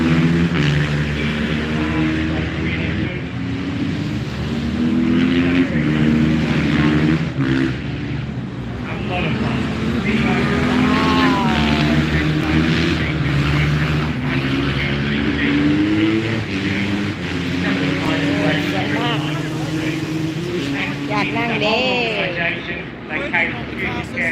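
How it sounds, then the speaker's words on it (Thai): Loud off-road race cars at a car show in Perth, engines roaring and revving continuously close by with rising and falling pitch sweeps, while people talk underneath. "แข่งรถอะไรเขาเรียกแข่งรถวิบากมันด้วยเสียงดังมาก"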